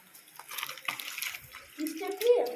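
Crystal-clear stream water running beside Arwah Cave, a steady wash of flowing water with a brief louder splash near the end and faint voices mixed in.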